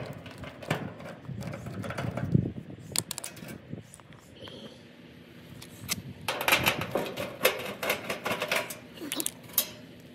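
Metal nuts being unscrewed from the cover of an air conditioner condenser unit, giving a string of close, irregular clicks, rattles and clinks of tool and fasteners, with busier clattering bursts toward the end.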